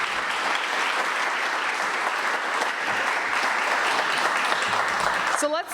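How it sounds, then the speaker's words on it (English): Full, steady audience applause at a small business program awards ceremony, a dense wash of many hands clapping continuously at close range, ending abruptly with a brief voice at the close. "Let's give them a round of applause."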